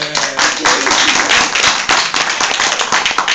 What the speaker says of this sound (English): A big round of applause should be given to them